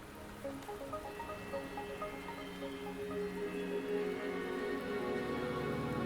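Steady rain falls in a video game scene, a soft continuous patter with a faint tonal music bed underneath, no voices.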